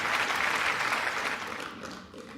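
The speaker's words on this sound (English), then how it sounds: "A big round of applause and thank Synchrony for that" An audience claps steadily at an evening commemoration of the 100th anniversary of the Battle of Belleau Wood, thanking a sponsor. The dense, close applause fades slightly near the end, with no voices over it.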